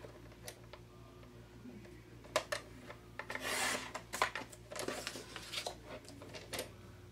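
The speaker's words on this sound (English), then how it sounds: "line up these two notches here with the score on the cutting guide, and we're just going to slice those off" A paper trimmer slices notches off an envelope liner, giving a few quiet rasping, scraping strokes with small ticks in between, close by in a hushed room.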